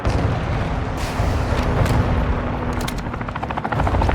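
An enemy helicopter in Call of Duty: Modern Warfare 2 multiplayer drones loudly and steadily with heavy rotor rumble, while bursts of gunfire and booms sound through the mix.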